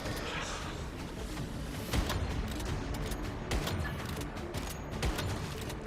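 Gunfire in the video game Once Human, with dense rapid bursts of shots rattling over a busy game soundscape, steady and fairly loud across the whole stretch.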